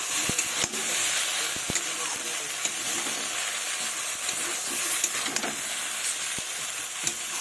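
Spice paste and fish curry, made with cauliflower, potato and tomato, are sautéed in a pan with a continuous close sizzle and hiss, broken by sharp scrapes and knocks of stirring at irregular moments.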